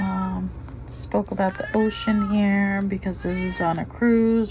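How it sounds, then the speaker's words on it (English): A talkative cat meows repeatedly in a home, a few clear drawn-out calls mixed in with a woman's ongoing speech. "I'm sorry about the cat. He's chatty."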